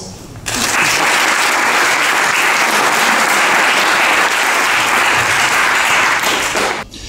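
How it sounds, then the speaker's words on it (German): A school audience applauds the student council, a loud, even wash of clapping that starts suddenly, holds steady for several seconds, then cuts off. "dafür einen großen Applaus"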